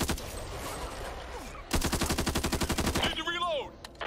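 Assault rifle fire in Back 4 Blood, a loud rapid automatic burst of evenly spaced shots lasting over a second, with lighter scattered shots and a brief vocal cry before and after.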